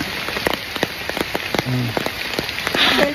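Rain patters on a nearby surface, with irregular louder drips tapping over a steady wash of falling water.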